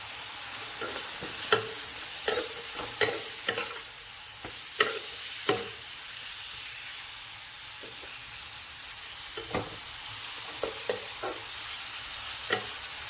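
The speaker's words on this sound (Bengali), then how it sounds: "একটু ভাজা ভাজা হোক" Vegetables, including small chopped tomatoes, sizzle steadily in a pan over high gas, with a run of sharp scraping and stirring knocks scattered throughout; no voices.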